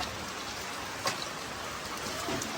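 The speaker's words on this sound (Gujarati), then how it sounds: "વરસાદ આવે છે" Rain falls as a soft, steady patter and hiss, fairly quiet and even throughout, with no voices.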